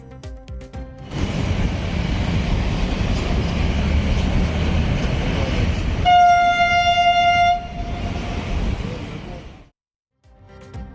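A driverless metro train on a test run rumbles steadily close by, then a loud sustained horn sounds for a couple of seconds before the noise cuts off briefly.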